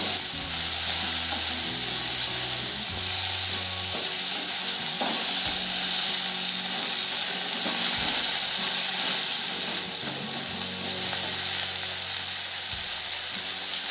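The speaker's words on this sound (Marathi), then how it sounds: "कारले छान तेलात परतवून घेऊ आपण असं परतवत राहायचे" Bitter gourd (karela) sautéing in oil for a bhaji, a steady loud sizzle and hiss with soft stirring scrapes running throughout, close up and without speech.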